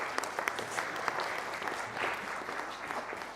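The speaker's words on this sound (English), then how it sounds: "Another round of applause, please." Audience applause at a motivational talk, a steady wash of many hands clapping throughout, fairly close and filling the room with no voices over it.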